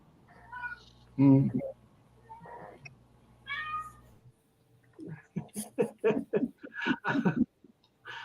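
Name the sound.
cats meowing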